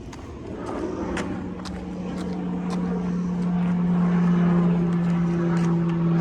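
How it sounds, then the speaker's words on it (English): An airplane passes over a residential neighborhood as a steady droning hum that slowly swells louder, with faint clicks and rustles nearby. "That was the airplane."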